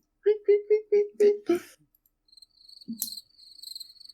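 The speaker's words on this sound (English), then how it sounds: "Should I just click the cricket button over here?" A cricket chirping sound effect triggered by a button: six short, evenly spaced chirps, close and clear, followed by a thin sustained high trill and a brief low thump.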